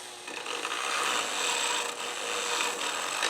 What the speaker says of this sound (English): So I got my Dremel with a very fine sander on it, and I just went like that.